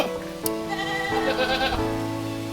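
Several goats bleat loudly and close by, overlapping wavering cries filling the whole moment with no talking.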